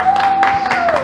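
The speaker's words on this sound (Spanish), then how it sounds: "Eso, un aplauso." A short burst of applause from an audience, dense and fairly close, with a steady tone running underneath it.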